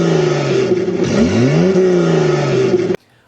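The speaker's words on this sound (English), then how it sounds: "Start your engines!" A car engine revving as a sound effect, a loud close roar whose pitch rises and dips through a few throttle blips before cutting off abruptly into near silence.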